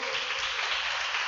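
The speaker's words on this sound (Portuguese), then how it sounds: "Dê mais uma salva de palmas para o Senhor" A brief, steady wash of congregation applause in a church service, dense and even with no individual claps standing out.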